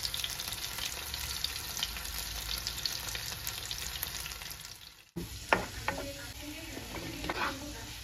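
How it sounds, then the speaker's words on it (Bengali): Chicken pieces marinated in flour, salt and pepper shallow-fry in hot oil with a dense, steady crackling sizzle, then cut to quieter, scattered pan clatter and light knocks. "চিকেনটাকে ময়দা, নুন, গোলমরিচ এই দিয়ে ম্যারিনেট করা ছিল, ওইটাকেই এখন শ্যালো ফ্রাই করে নিচ্ছি"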